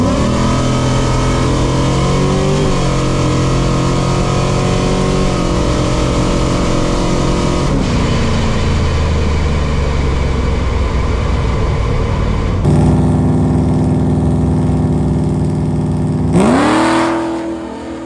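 A car launches hard on an eighth-mile drag run, its engine roaring loud and close through several rising gear pulls with brief dips at each shift, then letting off and winding down at the end.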